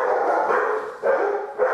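A German Shepherd barks three times in a row, loud and close, with short gaps between the barks and no talking.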